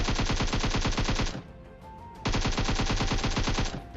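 Automatic gunfire in the mobile game PUBG Mobile rattles out in a rapid, loud burst, stops briefly, then a second fast burst of shots follows.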